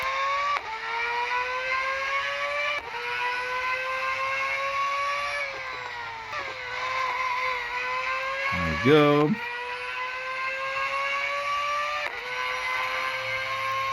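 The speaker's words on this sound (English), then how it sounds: "all the Mazdas sound great in the game, I must say" A Mazda Furai race car engine in a video game drones at high revs with shifting pitch and brief gear changes, plus a quick whirring sweep midway; a voice speaks briefly.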